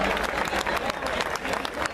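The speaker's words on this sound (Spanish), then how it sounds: "Aplausos, aplausos, aplausos. Fuerte los aplausos." Audience applause at an outdoor fair concert in Mataderos, a dense, steady clapping crowd sustained throughout, loud and close with a few scattered voices mixed in.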